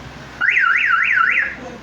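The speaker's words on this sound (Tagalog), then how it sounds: "Yan, nag-alarm na siya." A jeepney's car alarm wails in a rising-and-falling siren pattern, about four sweeps in quick succession, loud and close, then cuts off.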